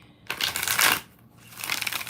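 A deck of tarot cards is shuffled close up in two quick bursts of riffling and flicking with a short pause between them, and no voice is heard.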